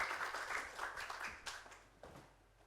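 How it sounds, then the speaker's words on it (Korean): Brief, quiet applause from a church congregation welcoming a pastor, a few seconds of scattered claps that fade toward the end. "박수로 목사님 환영 인사 나눕니다."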